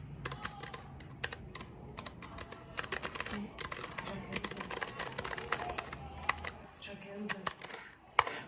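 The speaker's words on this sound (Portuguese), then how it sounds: "Dá para escutar o barulho." Typing on a Keychron K3 mechanical keyboard, with a steady run of close, crisp key clicks in uneven bursts and short pauses, with no talking.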